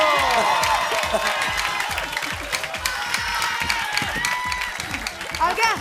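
Studio audience applause on an Indonesian comedy talk show, a dense steady burst of many hands clapping with a few whoops, fairly close and loud, and a voice faintly under it.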